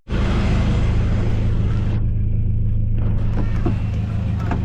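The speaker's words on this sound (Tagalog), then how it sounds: "Testing na tayo ng sasakyan. Ito, Ford Ranger." A 2013 Ford Ranger's engine drones steadily and loudly throughout a test drive in Leyte, a constant low rumble with road noise, the whole clip dominated by the running vehicle.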